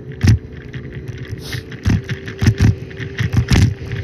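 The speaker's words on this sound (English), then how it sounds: "if the scooter loud" A small scooter motor idles with a steady low hum, punctuated by repeated louder revving bursts and rattles close by, in downtown Raleigh.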